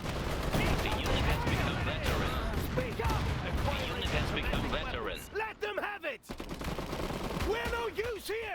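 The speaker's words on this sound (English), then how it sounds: "They're shooting! Adversaries in the area." Gunfire and machine-gun bursts in the Iron Harvest strategy game during a 1920 night raid, rapid overlapping shots mixed with game voice lines and unit chatter, busy and fairly close.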